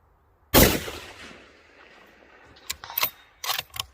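A single loud, close shot from an Accuracy International AX .308 rifle at a steel target, a sharp blast decaying into a long tail, then a few clicks and rattles of the bolt being worked.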